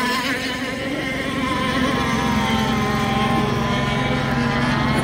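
Several scale-model RC hydroplane race boats run nearby, their small engines whining continuously at high pitch, a dense buzzing drone with shifting tones.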